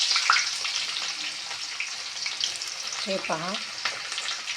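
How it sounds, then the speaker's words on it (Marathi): Onion is added to hot oil with garlic in a pan, giving a steady loud sizzle and crackle throughout, with someone briefly speaking over it. "आता मी कांदा टाकून देते"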